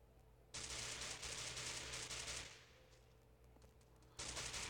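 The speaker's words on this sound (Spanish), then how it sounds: "me acaba de disparar en la cabeza y me acaba de matar un solo disparo" Rapid gunfire from the battle-royale game Free Fire, sustained broadband bursts that stop briefly and then resume, loud and close with no talking over them.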